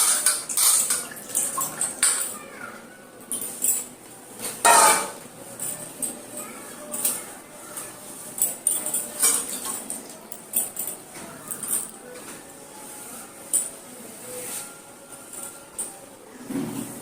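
Dishes and cutlery get washed by hand: irregular clinks and clatters of plates and spoons close by, with splashes of running water, continuing steadily with brief voices in between.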